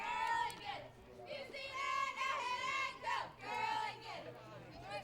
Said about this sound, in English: You may hear the Three Rivers bench cheering on Ostendorf